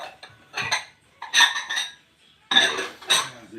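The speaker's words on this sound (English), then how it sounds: "I'll put away these dishes." Dishes and cutlery being put away, several clustered bursts of clinking silverware and knocking plates spread across the clip, close and fairly loud with short quiet gaps between them.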